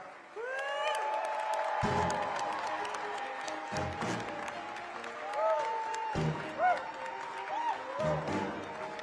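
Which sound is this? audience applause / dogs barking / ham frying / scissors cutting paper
audience applause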